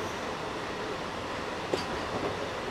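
A fast super local train runs along the Barddhaman–Howrah chord line overtaking other trains, a constant rushing rumble from inside the carriage with one brief click partway through.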